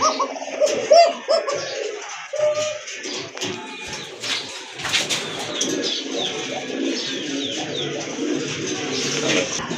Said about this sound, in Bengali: দেখেন কবুতরের ডাক দেখেন কোয়ালিটি দেখেন